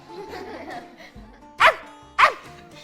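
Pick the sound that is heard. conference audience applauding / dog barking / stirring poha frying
dog barking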